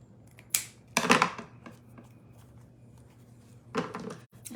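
Scissors cutting ribbon for a Halloween door hanger bow: a few sharp, close snips and rustles separated by quiet pauses, with a couple of soft handling bumps and no voices.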